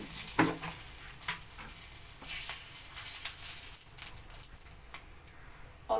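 Dried red chilli pieces and bay leaves sizzle in hot oil for tempering, with a steady close crackle, brief pops and a few louder bursts.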